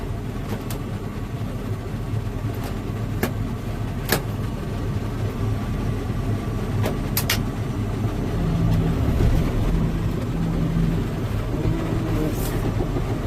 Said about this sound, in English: We'll go ahead and engage the PTO.